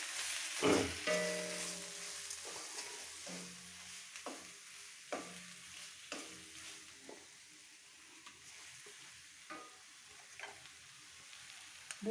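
Spices and coarse rock salt fry in a pan for a Rayalaseema-style goat offal and liver curry, a soft steady sizzle broken by several sharp scraping stirs of a spoon, close and without speech.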